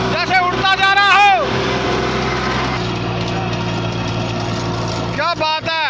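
A Solis 2516 mini tractor with a three-foot rotavator runs in a field, its engine droning steadily while revving up and down at the start and again near the end, with people talking over it.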